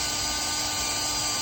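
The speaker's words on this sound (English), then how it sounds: "I've got a drill driver here with about an 1/8 inch drill bit, and I'm drilling a pilot hole" A drill driver with a 1/8 inch bit bores a pilot hole while a model railway turnout is installed, giving a steady, close, high-pitched motor whine without pause.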